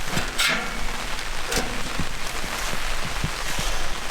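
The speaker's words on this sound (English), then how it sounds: "So it is raining, and we have deployed the awning." Rain falls steadily during cold-weather truck camping, a dense even patter on surfaces with scattered louder drips and no voices.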